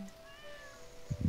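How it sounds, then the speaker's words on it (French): A Stardew Valley cat lets out one short, soft meow, followed by two dull low thumps, all quiet and with no one talking. "Petit miaou."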